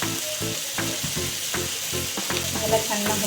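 Tomato frying with salt in a pan for paneer masala, a close sizzle punctuated by regular clanking stirs of a spoon against the pan, several strokes in quick succession, with no voices.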